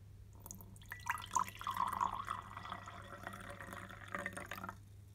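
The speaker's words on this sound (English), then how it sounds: "Well, I'm going to fill it with water." Water poured from a tap into a drinking glass, a quiet trickling fill lasting a few seconds over a low steady hum, heard alone with no talking.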